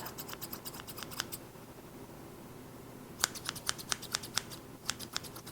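Scissors snip through table tennis paddle rubber in quick clicking runs, one burst early and a second, louder series of crisp cuts later, close up with a quiet room behind.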